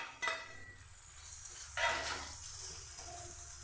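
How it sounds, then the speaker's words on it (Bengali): Neem leaves and eggplant fry in a pan over a low flame, giving a soft steady sizzle with two sharper bursts of stirring or pan contact near the start and middle. "এবার লো করে আমি নিম পাতা আর বেগুনটাকে এভাবে ভেজে নেব।"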